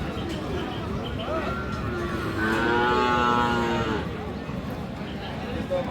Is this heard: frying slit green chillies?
no